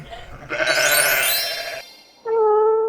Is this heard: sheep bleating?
yes